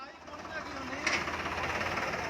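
A tractor engine idles with a low, steady rumble under a near voice talking, continuous throughout with a slight swell in the middle.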